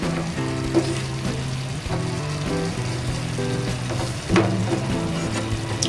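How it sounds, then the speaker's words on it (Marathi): Stuffed bitter gourds (karli) cooking in a pan with a little water, giving a steady, close sizzle and bubbling throughout, with an occasional louder crackle. "कारली छान शिजत आहेत"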